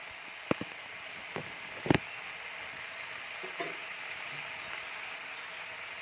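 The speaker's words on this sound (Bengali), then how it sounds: "পাতাগুলো দিয়ে দিচ্ছি দিয়ে একটু ভালোভাবে নাড়াচাড়া করে নেবো" Spinach leaves sizzle in a hot frying pan as they are stirred, giving a steady close hiss with a few sharp scrapes and clicks of the spoon.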